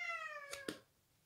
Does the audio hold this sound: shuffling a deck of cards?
no